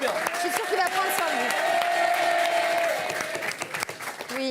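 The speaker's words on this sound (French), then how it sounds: "on peut l'applaudir" A French TV studio audience breaks into loud, steady applause with some cheering, the clapping filling the room while voices talk over it.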